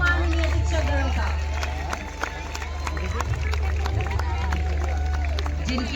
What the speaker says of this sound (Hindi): तालियों की गूंज से स्वागत कीजिए हमारे सभी सम्माननीय शिक्षक गणों का